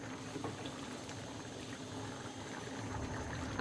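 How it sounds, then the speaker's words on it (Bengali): Chickpea dal curry with chicken bubbling in a pot at a steady, close boil, a continuous busy simmer with no voices. "তরকারি ভালো করে ফুটে উঠেছে"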